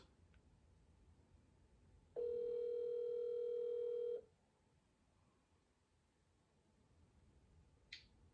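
A telephone call being placed: a steady dial or ringback tone sounds for about two seconds against quiet room background, followed later by a brief click.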